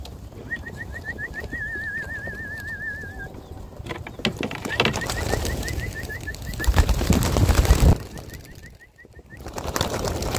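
Released pigeons take off and fly away, with wing flapping and cooing-like calls over an outdoor background, alongside warbling whistle-like trills and a louder rustling stretch before a brief dip.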